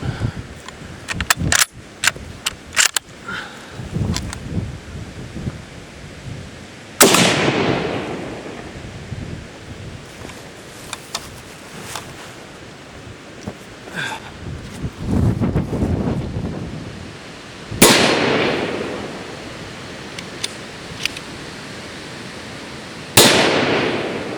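Loud 7.62x54R rifle gunshots cracking out alone, a few sharp reports spaced several seconds apart, each with a long rolling echo, after a quick cluster of smaller pops and under steady wind noise.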